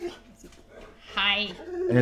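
A pet dog at home gives short yips and barks near the end of a brief stretch, mixed in with speech.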